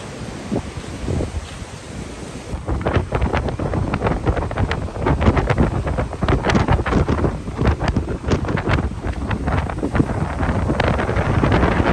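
Strong seaside wind at Baler, Aurora buffets the microphone in gusty, rumbling bursts, with rustling in the background and no one talking.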